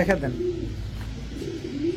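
A young fancy pigeon at a pigeon sale coos close by in a short, soft, throaty call while people talk around it.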